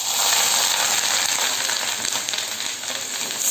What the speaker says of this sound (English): You have to keep on frying it and keep the stove in the medium flame only.